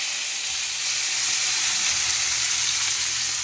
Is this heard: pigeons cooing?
no